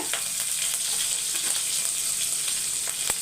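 Cumin seeds, crushed garlic and a sprig of curry leaves sizzle steadily in hot oil, a dense continuous crackle with scattered sharper pops, close and fairly loud, with no talking.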